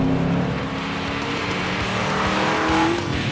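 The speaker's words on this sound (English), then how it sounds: "The real kicker is all the power this 302 3-valve is putting to the ground." A Ford Mustang GT with a 302 cubic-inch 3-valve V8 on Bilstein shocks and larger wheels and tires drives hard, its engine droning steadily and loudly with a hint of tire noise, and no talking.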